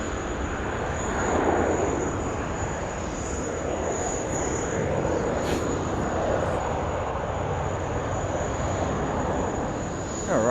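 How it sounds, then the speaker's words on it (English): An airliner rolls for takeoff on runway 16 left at Sydney Airport, its jet engines a broad steady roar with a high whine on top, heard from a distance with no talk. "Runway 16 left, clear for takeoff."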